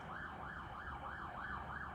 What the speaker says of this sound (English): Excuse the siren, by the way.